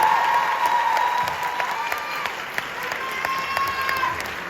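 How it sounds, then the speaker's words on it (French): A cinema audience at a Paris premiere of Challengers applauds the film crew, a sustained wash of many hands clapping with faint cheers and murmuring crowd underneath. "Les amis, je vous demande s'il vous plaît, d'applaudir comme il se doit les équipes du film Challenger"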